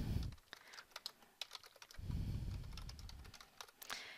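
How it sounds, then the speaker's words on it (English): Someone types a question on a computer keyboard: rapid, close key clatter in uneven bursts with brief pauses between words, over a quiet room. "I can actually type a question"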